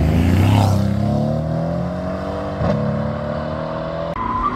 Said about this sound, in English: And an Aldershot District bus.